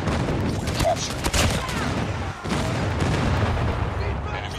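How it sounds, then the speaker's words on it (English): Enemy airstrike explosions in Call of Duty Mobile come as dense, loud rolling booms and rapid gunfire crackle in a continuous barrage, with brief radio voice callouts mixed in. "Enemy airstrike incoming."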